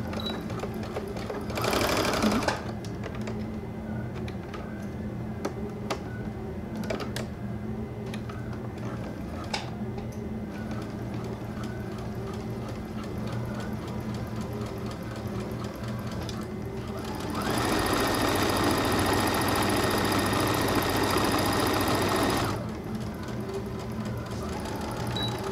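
A sewing machine stitches a French seam at a 1/4 inch seam allowance, running steadily with a rhythmic mechanical whir and ticking. It gets louder and denser for a stretch near the end, with no talking.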